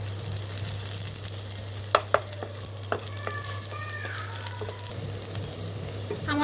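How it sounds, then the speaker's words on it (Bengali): Two medium-sized chopped onions fry in hot oil in a pan, giving a steady close-up sizzle with a few brief clinks of a stirring utensil, and no voices. "পেঁয়াজগুলো লাল করে ভাজবো"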